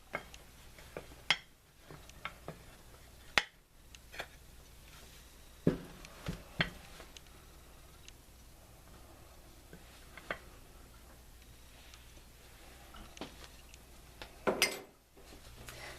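A plate is set onto an air fryer lava cake pan and the two are flipped over, producing scattered sharp ceramic-on-metal clacks and taps, with a few louder knocks among quiet handling noise.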